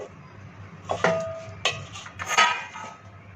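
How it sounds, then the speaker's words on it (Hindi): Raw mangoes drop into a large metal pot in a few separate bursts, each a close clatter and clunk with a ringing metallic edge, over a quiet background. "मैंने एक बड़ा सा बर्तन ले लिया है, अब इसमें हम ये सारे आम को डालेंगे।"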